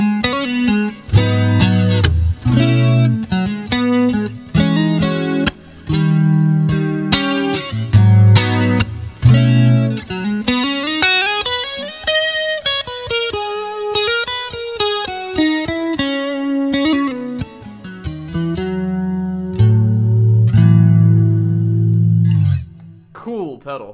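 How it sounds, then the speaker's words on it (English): An electric guitar played through a mono chorus placed after the amp on a Fender Tone Master Pro, distorted chords and single-note lines shimmering with a wavering chorus, loud and continuous with brief pauses. "Then I have my chorus post amp. It's just a mono chorus."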